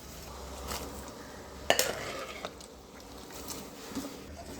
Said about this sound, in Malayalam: കടലപ്പരിപ്പ് വേവിച്ച് വെച്ചിട്ടുണ്ടായിരുന്നു ഞാൻ കുക്കറിനകത്ത് അത് നമുക്ക് അങ്ങോട്ട് ഇട്ട് കൊടുക്കാം